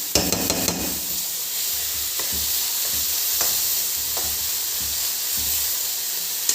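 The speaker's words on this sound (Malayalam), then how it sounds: "നമ്മൾ അരപ്പും ഫുള്ള് ഇട്ടിട്ട് കുറച്ച് നേരം ഒന്ന് ചൂടാക്കണേ" Ground spice paste for a Kerala-style drumstick flesh dish sizzles steadily as it heats in a pan, a loud continuous frying hiss with occasional stirring scrapes and no talking.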